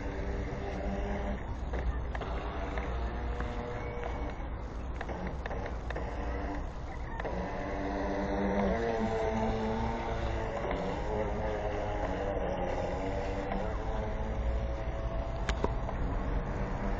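A remote control boat's engine runs steadily on the water, a continuous buzzing drone that grows slightly louder partway through, with brief dips as it cuts out.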